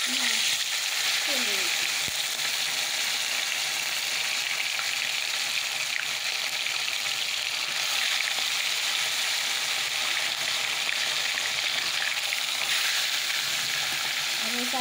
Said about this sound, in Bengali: চারটে মাছ ভেজে নেই